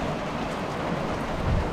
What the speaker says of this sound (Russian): Гром гремит, молния. Вот и пришел к нам обещанный ливень.